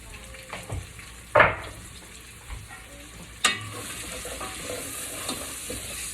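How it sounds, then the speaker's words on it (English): A whole Vidalia onion goes into a hot pot and fries, a soft sizzle running throughout, broken by a couple of sharp clanks and stirring knocks. "Dump that whole Vidalia onion right in the pot."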